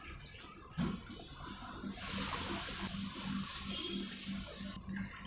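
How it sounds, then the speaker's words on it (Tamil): Water poured from a cup onto two cups of sugar in a pan for milk Mysore Pak, a steady splashing pour lasting a few seconds, close and fairly soft, with no talking. "½ கப் தண்ணி விடுறேன்."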